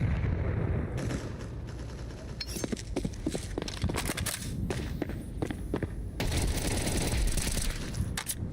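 A grenade is thrown and explodes in a shooter video game, with a string of sharp, punchy bursts and thumps that end in a broad, sustained blast rumble.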